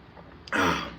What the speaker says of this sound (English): My throat is dry. I'm about to start coughing.